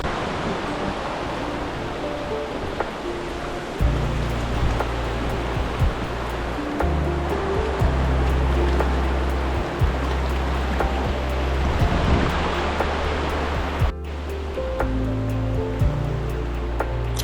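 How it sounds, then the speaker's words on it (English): Water washes steadily against a lakeside campsite shore in Quebec's Charlevoix region, a continuous close rush of waves with a low rumbling undertone and no talking. "There's something very relaxing about sitting by the water and watching the waves"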